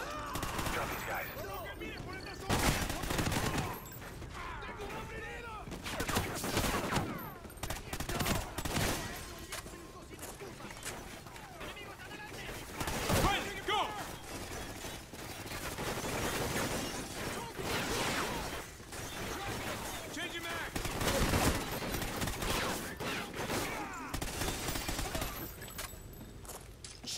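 Gunfire in the Call of Duty Ghosts shooter comes in repeated loud rattling bursts and single cracks, with crashes and breaking debris between them. Voices talk over the shooting at times.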